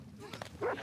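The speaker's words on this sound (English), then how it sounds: "There is a dog. I hear a dog." A dog in The Last of Us Part II gives one short, faint bark in a quiet game scene, heard briefly under low background sound.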